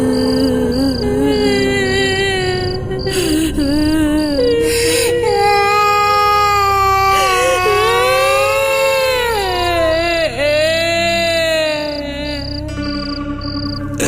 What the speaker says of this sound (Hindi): हमें रात भर बच्चों के रोने की आवाज सुनाई देती